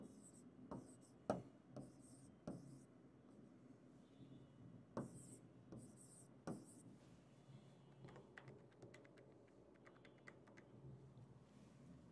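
A pen writes on paper during an accounting class, with soft scratching strokes and occasional sharp taps in an irregular rhythm, faint and close against a quiet room.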